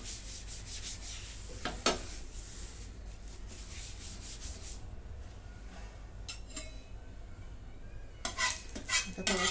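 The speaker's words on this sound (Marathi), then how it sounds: "ह्याच्यावरती तेल सोडून घेते आणि टिश्यूने पुसून घेते." Tissue rubbed over an oiled griddle pan, a close, dry scrubbing and scraping with uneven strokes, some sharper scuffs and clinks near the start and end.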